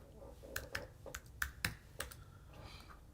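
Computer mouse clicking while working in Cricut Design Space, a handful of sharp, close, quiet clicks spaced irregularly over soft background hum.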